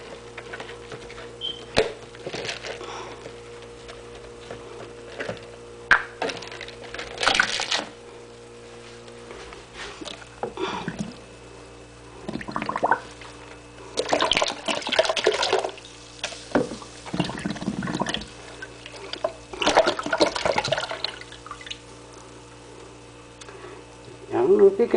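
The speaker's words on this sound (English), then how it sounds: "Take a little less water so that the beads actually rub the edges better." Beads and a small amount of water shaken inside a small drink bottle, giving repeated bursts of rattling, sloshing clatter close by, separated by quieter pauses with faint background noise.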